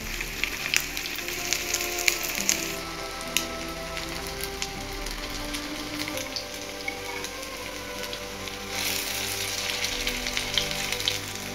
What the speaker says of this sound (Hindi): अब इसे हम मीडियम टू हाई फ्लेम पे फ्राई करेंगे।